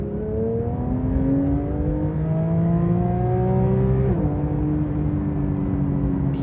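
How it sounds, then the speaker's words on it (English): Porsche 992 GT3 Touring flat-six engine revving on a wet B road, a loud, continuous rising howl building smoothly in pitch, with a brief dip around a gear change before climbing again, no talk. "Beautiful sound. Such a wonderful linearity to the way the power builds."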